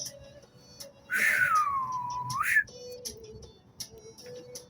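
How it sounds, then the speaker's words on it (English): One long, loud, sliding whistle from a person calling a griffin for a ride cuts through quieter background tones, dipping then rising before stopping abruptly. "Instead, I whistled for our ride."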